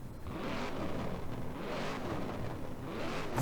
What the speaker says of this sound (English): Listen to that supercharger kicking in.